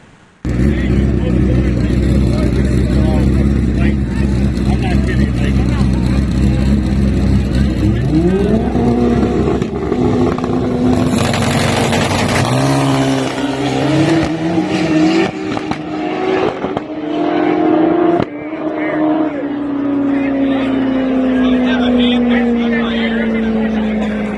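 Drag racing car making a final-round pass, its engine idling loudly, then revving and screaming up through rising gear tones before easing off into a long fading drone, heard alone.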